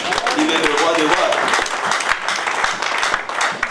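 Church congregation applauding during a sermon, a burst of clapping with voices and cheering mixed in, sharp individual claps standing out over the crowd.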